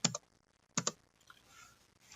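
Computer keyboard typing, two quick clusters of close key clicks separated by a short pause, then faint rustling.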